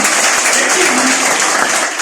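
Audience at a DXN network marketing gathering breaks into loud, dense applause that fills the whole stretch steadily, with faint voices mixed underneath.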